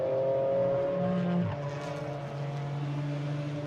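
An Alpine GT4 race car drones past on a qualifying lap at Hockenheim, a sustained engine tone that drops in pitch midway as it passes, heard at a moderate distance with no talk.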